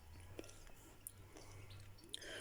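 Someone bites into crunchy, very sweet early grapes, making a few faint, close crisp crunches and soft chewing in an otherwise quiet moment.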